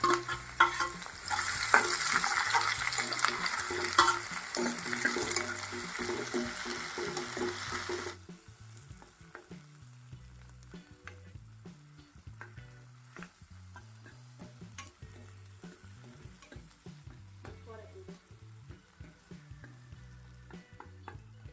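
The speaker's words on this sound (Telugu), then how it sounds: "ఒక కప్పు వరకు ఉల్లిపాయ ముక్కలు ఒక టమాటా ఒక రెండు పచ్చిమిర్చి వేసుకొని మొత్తం దగ్గరగా మర్చిపోయే వరకు ఫ్రై చేస్తూ ఉండాలి" Onion, tomato and green chillies frying in a pan for a drumstick chicken curry, a loud sizzle with stirring scrapes for about eight seconds, then a much quieter simmering crackle with soft occasional stirring.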